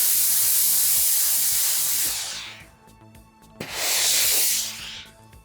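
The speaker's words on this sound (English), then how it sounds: "then we're going to give it a nice steam" A steam iron blasts steam onto a handmade fabric slipper: two loud, sustained hissing bursts, the first lasting about two seconds and the second shorter after a brief pause, with no talking.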